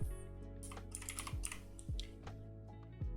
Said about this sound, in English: I'm like typing